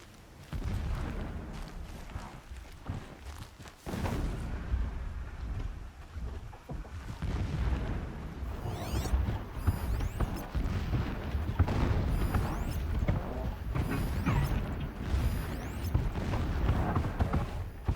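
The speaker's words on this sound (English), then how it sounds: "Explosions in the distance." Distant explosions booming in the Horizon Zero Dawn video game, dull low rumbles spread across a steady wind-like ambient bed, continuous and moderately loud with no voices.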